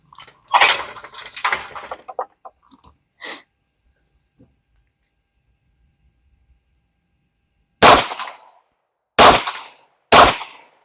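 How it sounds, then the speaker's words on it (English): A CZ 75 BD pistol fires outdoors at a range, sharp loud cracks: a cluster of shots early, then three spaced shots near the end, with quiet gaps between. "sweet shooting little pistol"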